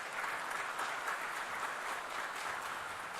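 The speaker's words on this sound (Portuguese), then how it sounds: "a salva de palmas" A public hearing audience gives a round of applause for a former water and sewage service director, a steady, even wash of many hands clapping at a distance, fairly faint and unbroken.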